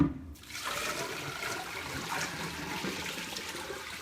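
Water splashes and pours out steadily as chickpea skimming water is dumped, a continuous rushing wash that starts after a brief quiet moment and keeps flowing without a break.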